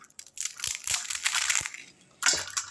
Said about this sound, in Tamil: நொறுங்கிறது சவுண்டு கேட்குதுங்களா, சூப்பராக இருக்குங்க. மொறுன்னு இருக்கும் சாப்பிட்றதுக்கு.